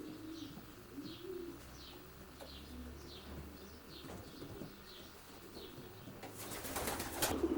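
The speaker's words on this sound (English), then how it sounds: "What families of pigeons do you race in, George?" Racing pigeons in a loft coo softly in a steady, repeated rhythm, with faint shuffling around them and a short burst of wing flapping or rustling at the end.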